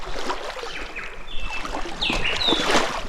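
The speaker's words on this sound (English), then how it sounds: "Listen to the birds." Birds whistle and sing in short, clear calls beside a river in a remote forest of Huon pines, with flowing water murmuring steadily underneath.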